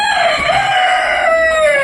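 A rooster crows loudly and close in a chicken coop holding Polish bantams and free-range hens, one long sustained call that slowly falls in pitch and fills the whole moment.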